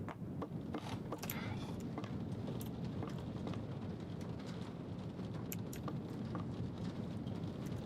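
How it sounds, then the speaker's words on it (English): Steady rain hisses in the Casting Whispers video game, a soft, even wash of falling water with faint scattered drips and low rumbles running through the whole stretch. "I hear rain here."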